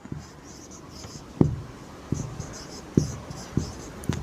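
A pen writes on paper while working a math exercise, faint scratching strokes with several distinct taps as numbers are marked, close and quiet over a soft background hiss.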